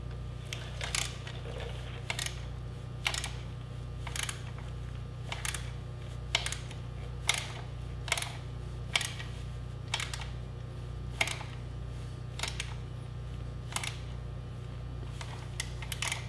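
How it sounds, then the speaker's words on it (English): Quarter-inch drive socket ratchet and 11mm wrench tightening a bolt on a Yamaha Grizzly 600 ATV brake, a run of sharp, evenly spaced ratchet clicks over a low hum, close. "I'm going to go ahead and tighten that down with my 11mm wrench and socket."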